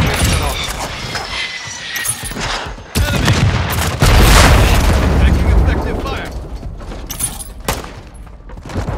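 Semtex grenade blast in Call of Duty: Modern Warfare II amid a loud, chaotic gunfight, with heavy booms and rapid gunfire running almost continuously and a big deep explosion near the middle.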